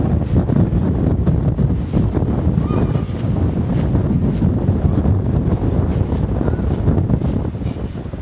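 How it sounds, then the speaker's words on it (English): Strong wind whipping across a top-floor balcony above a pool at Miramar Beach, Destin, Florida, roaring steadily and loudly into the microphone for the whole stretch with no break. "But boy, the wind is whipping."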